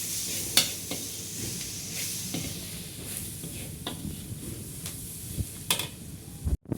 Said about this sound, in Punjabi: ਹੁਣ ਆਪਾਂ ਇਹ ਮਸਾਲੇ ਮਸਾਲੇ ਨੂੰ ਇਹ ਭੁੰਨ ਲਾਂਗੇ ਕਿਉਂਕਿ ਹਲਦੀ ਦਾ ਬਿਲਕੁਲ ਵੀ ਕੱਚਾ ਪਾਣ ਨਾ ਰਹਿ ਜੀ